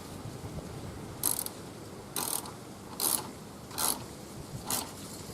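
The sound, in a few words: ratchet tightening car battery hold-down clamp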